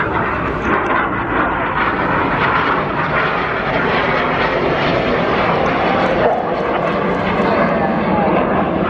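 A continuous loud roar of display jets at an airshow as the synchro pair flies past, a steady broadband rush that holds for the whole stretch and drowns out everything else.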